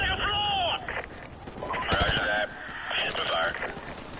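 Gunfire rattles through a Modern Warfare Remastered campaign battle, bursts of automatic shots and sharp reports close by, mixed with shouting voices and radio-style chatter.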